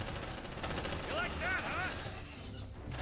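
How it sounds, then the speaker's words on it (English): Sustained suppressive gunfire in the sci-fi tactics game Aliens: Dark Descent, a steady rattle mixed under game music and effects, with a brief electronic warble in the middle. "We can move the suppressive fire"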